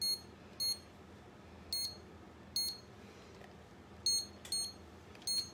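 A kitchen timer beeps in short repeated bursts of high electronic tones, seven groups spaced irregularly over a few seconds, clear and close against a quiet room with no talking.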